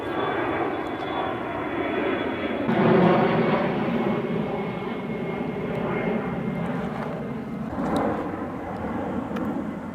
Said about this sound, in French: On va attendre que l'avion il passe hein.